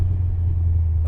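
Rally-prepped 1997 Land Rover Defender V8 engine running with a deep, steady, loud rumble close by, no voices.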